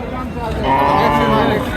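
A bull or cow at a busy cattle market lets out a single loud, drawn-out moo close by, lasting well over a second.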